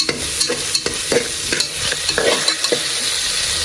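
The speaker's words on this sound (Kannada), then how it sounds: "ಎರಡು ಪಲಾವ್ ಎಲೆ ಹಾಕ್ಕೊಳ್ಳಿ. ನೀಟಾಗಿ ಫ್ರೈ ಆಗಲಿ." Two bay leaves frying in oil for a palak egg biryani, a loud, close sizzle punctuated by rhythmic stirring scrapes of a spoon in the pan, with no voices.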